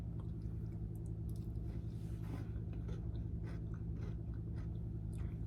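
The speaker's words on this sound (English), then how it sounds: "You hear that crunch?" Chewing of cinnamon roll cheesecake protein ice cream with crunchy mix-ins comes through as quiet, close crunches and bites scattered over a steady low hum; no voices.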